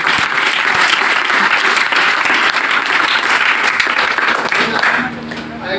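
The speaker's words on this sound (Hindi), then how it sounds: "एक बार जोरदार तालियों से" A loud, close burst of applause from the audience at a network marketing training session, dense clapping that holds steady before easing slightly at the end.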